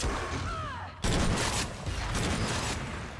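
A boom harpoon weapon firing in the video game Agents of Mayhem, a sharp blast followed by sustained loud, crackling combat noise and layered game effects.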